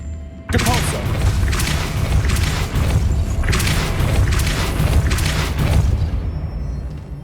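A Depulso force spell cast in Hogwarts Legacy, a loud sudden booming blast that surges in heavy rumbling waves for several seconds before fading.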